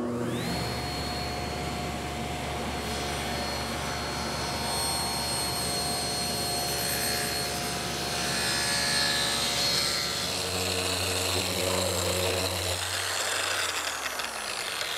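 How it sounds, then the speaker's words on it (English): A table saw making a final thicknessing pass through a wooden board for a Chippendale mirror, a loud continuous whine and roar of motor and blade that shifts in pitch near the end as the cut finishes. "And one final pass through the table saw gives me the thickness that I need."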